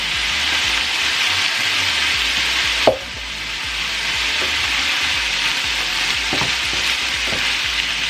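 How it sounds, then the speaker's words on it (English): Minced meat sizzles steadily in a pan with fried carrots and onions, a constant close hiss broken by a few clicks and scrapes of stirring, with no voices. "So now that our carrots and onions are fried, what we're going to do now is we're going to throw in the mince."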